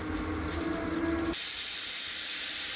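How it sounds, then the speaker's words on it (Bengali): A pressure cooker on the stove during dalia khichuri cooking builds up, then bursts into a loud, steady steam hiss that starts abruptly partway through and continues to the end. "প্রেসার কুকারে সিটি পড়ার মতো হয়ে গেছে, দুটো সিটি দেবো।"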